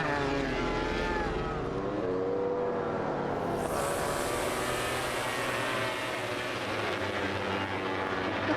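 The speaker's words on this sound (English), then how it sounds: "Proper motorbike race." MotoGP motorcycles race at the Aragon circuit, their engines a continuous loud, high-pitched roar with shifting pitch as bikes pass, forming a dense wash of engine noise.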